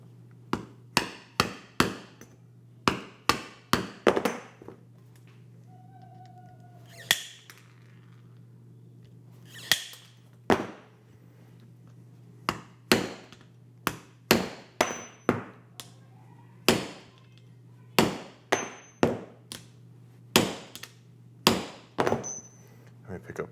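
Sharp hammer strikes on leather while making firefighter suspenders, around two dozen loud close whacks in uneven clusters with short pauses between, over a low steady hum.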